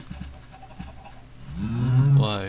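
A Minecraft cow lets out a single drawn-out moo, rising and swelling over a couple of seconds after a few soft thumps, close and fairly loud with no talking.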